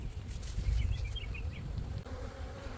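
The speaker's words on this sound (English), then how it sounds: "Just give it a good solid shake, and those bees fall right off into the hive." Honeybees buzz after being shaken off a frame into a hive during a colony split, a dense continuous hum close by that dips briefly and then carries on more softly.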